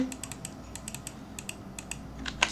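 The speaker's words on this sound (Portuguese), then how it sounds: "para não ficar digitando, não tomar muito tempo digitando" Fingers tap quickly on a computer keyboard in irregular bursts of light clicks, fairly quiet and close, with no talking.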